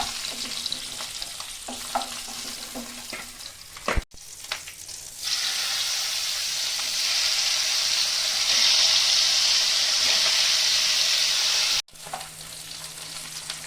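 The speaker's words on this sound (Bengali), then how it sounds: "আরও কটা মাছ আছে সব এরকমভাবে ভেজে নেব।" Bata fish fry in hot oil in a pan, giving a steady, loud sizzling hiss that swells partway through and holds, with a few clatters and stirring sounds near the start and a sharp knock near the end.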